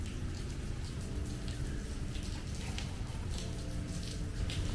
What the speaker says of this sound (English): So it's drizzling, it's not as bad as the downpour earlier on.